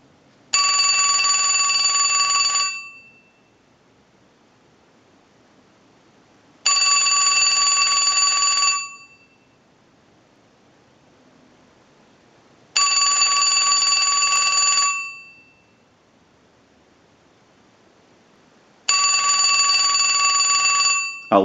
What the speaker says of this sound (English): send a ring cycle like you were getting a call